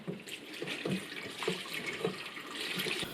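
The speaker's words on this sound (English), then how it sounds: "we depressurise it and take the lid off, and then strain it into a smaller pan through a colander" Homemade mulligatawny stock poured and strained through a colander into a smaller pan, splashing and trickling liquid with soft pulses of pouring, close and fairly quiet.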